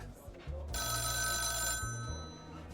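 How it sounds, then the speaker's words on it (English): A telephone rings in the video game Coffee Noir, one bright, sustained electronic ring lasting about a second, moderately loud over a low rumbling music bed. "The phone call from Coralie's mother interrupted."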